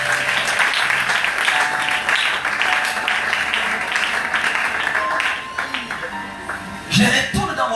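A church congregation applauding, with sustained dense clapping that continues for several seconds and then thins out toward the end, while a voice speaks over it.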